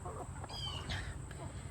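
Soft clucking and short calls from a mixed flock of hens and roosters on a rainy day, several brief murmurs spread over a steady low background.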